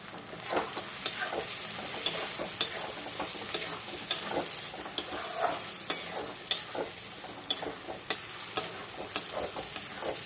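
Prawns frying in a pan, a steady close sizzle broken by repeated sharp spatula scrapes and clicks against the metal at an uneven rhythm, with no voices.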